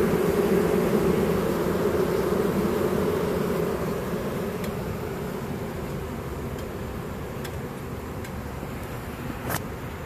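A dense swarm of honeybees drones continuously during a hive removal from a tree in Tampa, Florida, the buzzing loud and close at first and easing slightly later, with a few faint clicks over the hum.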